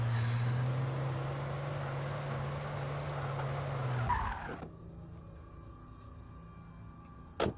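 A car in the video game Alan Wake drives and skids, a loud, sustained engine roar and tire scrub that cuts off abruptly. Near-silence follows, broken by one brief click.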